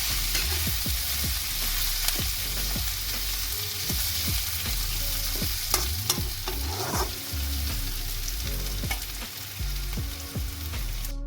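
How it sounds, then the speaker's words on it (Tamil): A frying mixture is stirred in a pan, a steady loud sizzle with repeated scraping strokes of the spoon throughout, no talk. "எரிஞ்சு போகாமல் இடையிடையில் கிளறி விடணும்."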